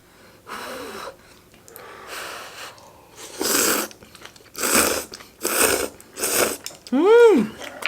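Someone eats a moist dumpling during a Korean food meal, with close, wet chewing and bites in repeated bursts, heavy breathing through the nose, and a brief voiced exclamation at the end.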